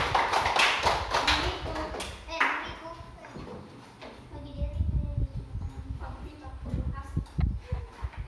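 A classroom of students applauds in a dense burst of clapping early on, fading as a teacher speaks over the room afterward.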